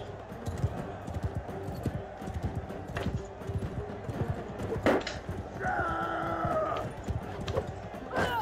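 Horse hooves clip-clop in quick, uneven beats in the Mount and Blade Bannerlord game, mixed with scattered clanks and a brief whinny-like tone, fairly faint overall.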